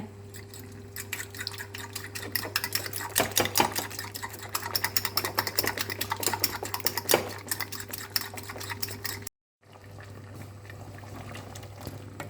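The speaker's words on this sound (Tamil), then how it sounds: "நல்லா பீட் பண்ணிக்கோங்க." Salt and black pepper powder being beaten into a mixture, a busy run of quick, rapid clinks and scrapes against a bowl with a steady hum underneath, close and fairly loud, cutting off briefly near the end.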